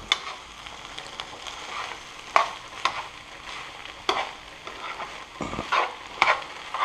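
Eggs stirred into bacon fried rice in a hot pan, a steady sizzle broken by several sharp scraping strokes of the utensil, close and fairly loud, with no voices.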